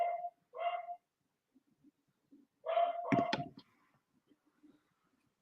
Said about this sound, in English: What's my dog's barking at?